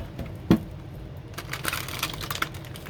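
Tarot cards being shuffled produce a quick series of light, crisp clicks and riffling taps, starting with one sharper snap and then a dense flurry, close and quiet.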